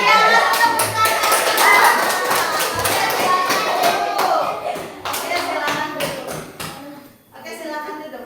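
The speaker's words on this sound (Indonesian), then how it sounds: "Iya, tepuk tangan." A primary school class claps hands together in an Indonesian classroom lesson on magnets, rapid loud clapping from many children with chatter and voices mixed in, lasting several seconds before tapering off.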